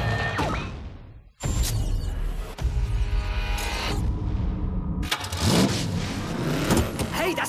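Car engine roaring and revving in a film trailer, several loud surging bursts separated by abrupt cuts, layered with dramatic sound effects and no one talking over it.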